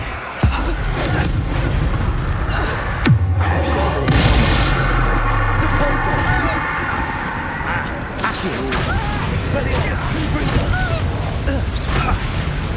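A Confringo fire spell explodes in Hogwarts Legacy as a loud booming blast with a rumbling tail, set in a dense, continuous game soundscape of combat effects.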